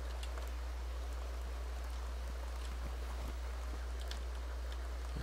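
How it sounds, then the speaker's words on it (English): Rain falling steadily in the Sims 2 life-simulation game, a soft continuous patter with faint scattered drops, even in level and heard alone with no talking. "It's raining outside."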